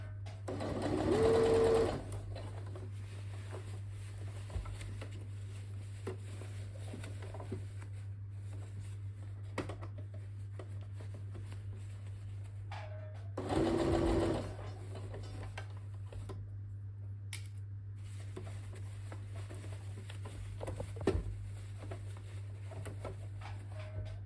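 A sewing machine stitches the sleeve of a workwear jacket in a steady, close mechanical hum, with two short louder bursts of faster stitching and a few light clicks of handling.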